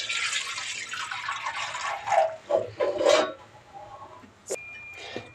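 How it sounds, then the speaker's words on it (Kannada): Water is poured into a cooking pot to boil Maggi noodles, making a close, continuous splashing gush for about three seconds. It then fades into a few faint clinks and drips. "ಅದಕ್ಕೆ ನೀರು ಹಾಕೋಣ."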